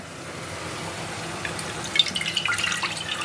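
Prepared rasam liquid is poured into a pot for crab curry. After a quiet start, a faint, close trickle and splash of pouring liquid comes in halfway through and continues to the end.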